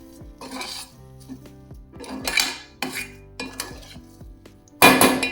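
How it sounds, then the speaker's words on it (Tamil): A spoon stirring cooked dal and grated coconut in a metal pot for sweet kozhukattai, giving repeated scraping swishes and sharp metallic clinks against the pot, with one loud clatter near the end. "போட்டு நல்லா கலந்து விட்டுருவோம்"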